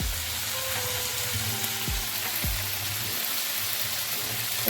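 Onions fry with chili powder and coriander powder for a prawn masala, giving a loud, steady, close sizzle that hisses evenly throughout, with only faint low tonal hum beneath and no talking.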